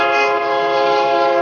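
A passenger train pulling into a busy station sounds a loud, sustained horn, one unbroken tonal blast close by.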